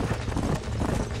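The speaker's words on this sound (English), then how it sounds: "This horse is trying to run so bad." Horse hooves gallop in the video game Red Dead Redemption on PS3, a quick, dense thudding clatter heard up close and loud for a brief moment.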